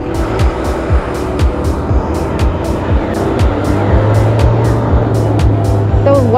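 Cars passing on a busy city street, several vehicles sweeping by one after another, close and loud, with tire noise, a steady engine drone building and sharp clicks across the top.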